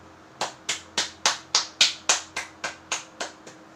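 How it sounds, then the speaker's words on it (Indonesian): Sharp, evenly spaced hand claps, about twelve in a steady rhythm, from students in a classroom, close and clear with no talking. "tepuk tangan buat teman-temannya"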